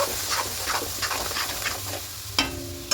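A freshly ground spice paste sautés in a pan for a chicken dish, a dense crackling sizzle with repeated soft spatula strokes and two sharp metallic clinks toward the end.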